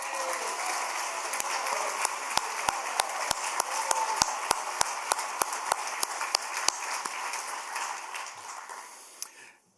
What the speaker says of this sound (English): please join me in giving Rachel a well-deserved round of applause